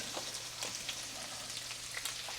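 Bacon fries in a ceramic-coated pan, a steady close crackling sizzle with scattered small pops, alone and fairly quiet.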